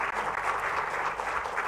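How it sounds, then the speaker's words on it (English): Warm applause from a conference audience at a democracy and Europe event, a steady, dense patter of many hands clapping at moderate loudness throughout. "A warm round of applause in Norway."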